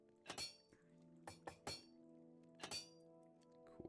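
Anvil in the Minecraft video game gives a handful of quiet metallic clanks and thunks, in uneven bursts with short ringing tails and brief gaps between.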